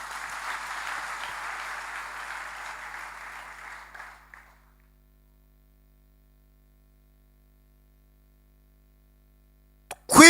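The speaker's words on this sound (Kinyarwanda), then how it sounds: "Komera Imana amashyi." A church congregation claps together during a sermon, a dense burst of applause lasting about four seconds before cutting to silence, with a brief sharp noise at the very end.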